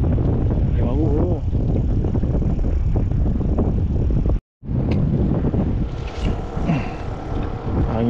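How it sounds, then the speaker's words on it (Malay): Strong wind buffets the microphone in a steady roar beside a river in Kuala Kurau, Perak, during a fishing trip, with people talking throughout and a brief dropout midway. "Memang kuat gila angin."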